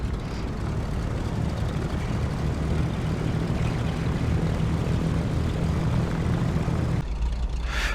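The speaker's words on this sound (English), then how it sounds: "here we are at the end of the runway, almost ready for departure" A small propeller airplane idles at the end of a runway before departure, its engine and propeller droning loud and steady from close by, dropping suddenly near the end.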